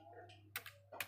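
A few faint clicks of computer keyboard keys as a web address is typed, two brief clusters of taps over a low steady hum.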